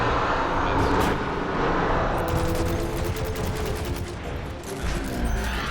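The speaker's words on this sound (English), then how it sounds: "So that's a fucking tank. Just shot me." Heavy, dense battlefield din from a video game with a tank firing: booming shots and crackling gunfire layered over a continuous loud roar, with no clear gaps.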